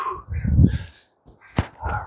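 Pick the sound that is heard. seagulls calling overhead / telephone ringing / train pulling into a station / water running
seagulls calling overhead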